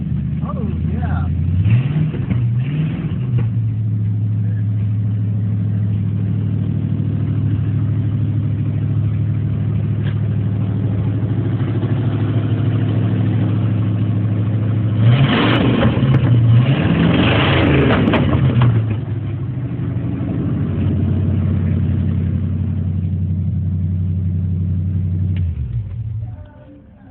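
A 1965 Ford Thunderbird fastback with a built 460 engine runs at a steady rumbling idle, with a couple of rev blips partway through, while someone talks over it.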